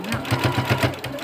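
A sewing machine stitches bias binding in a rapid, even mechanical chatter of closely spaced needle strokes, close and alone.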